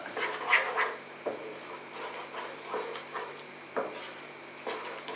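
Eggs frying and being stirred in a pan for Indian egg bhurji, a steady soft sizzle broken by a few scraping stirs, close and moderate in level, with no talking.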